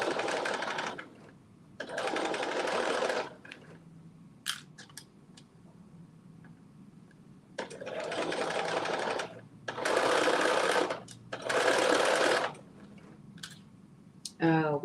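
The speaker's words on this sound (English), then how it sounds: "I'm gonna stitch around." A sewing machine stitches a sleeve seam at a half-inch allowance, running in several loud, steady bursts of a few seconds each, with pauses and some talking between them.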